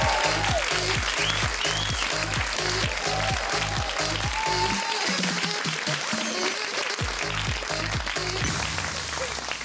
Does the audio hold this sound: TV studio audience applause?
yes